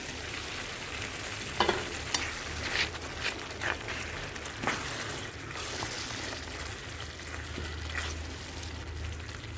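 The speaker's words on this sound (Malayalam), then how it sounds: "പുളിവെള്ളം ചേർത്ത് കൊടുത്ത് ഒരു 3 മിനിറ്റോളം നന്നായിട്ടൊന്ന് തിളപ്പിച്ച് എടുക്കണം." Sun-dried tomato pickle masala cooking in a pan after tamarind water is added, giving a steady sizzling bubble with a few sharp scraping stir strokes, close and moderately loud, no voices.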